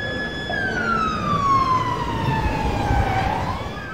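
Ambulance siren on a Friday evening near a bar in central Prishtina: a loud, close wailing tone that glides slowly downward, then begins to rise again, over faint road noise.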